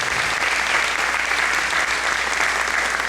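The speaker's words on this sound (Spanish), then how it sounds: "Les pido un aplauso para la palabra del Señor" Church congregation applauding during Mass, a dense continuous clapping that fills the whole clip at steady loudness with no voices.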